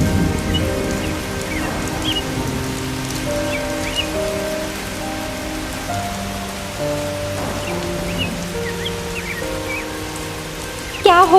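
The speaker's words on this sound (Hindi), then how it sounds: "थोड़ा ये बिजली रुके और बारिश रुके तो मैं जाऊँ थोड़ा खेत देखने के लिए" Rain patters steadily on surfaces during a storm scene in a Hindi bird cartoon, a continuous wash under layered background music, with no clear thunder crack standing out.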